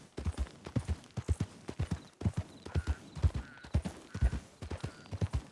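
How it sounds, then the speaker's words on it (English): Horse hooves clip-clop in a steady walking rhythm inside a video game, fairly close and clear, with no talking over them. "Looks like there'd be a horse over here."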